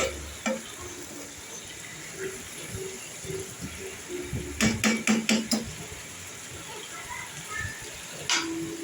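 Bele fish, puti fish and a few golda prawns stir-fried together in a pan, with a steady low sizzle and scattered spatula clinks, then a quick run of sharp metallic scrapes and taps midway and one more near the end.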